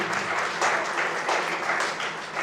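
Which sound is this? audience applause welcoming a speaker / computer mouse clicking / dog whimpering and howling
audience applause welcoming a speaker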